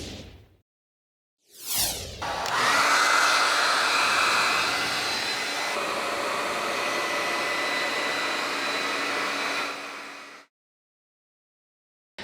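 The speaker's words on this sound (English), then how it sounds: "Use a hairdryer." A hair dryer powered by an AllPowers S2000 portable power station switches on with a whoosh and blows steadily and loudly for about eight seconds before shutting off, with no talking.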